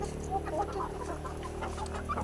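A gamefowl hen clucks softly and irregularly nearby on a farm, the low murmuring calls sitting over a constant hum, with no one talking.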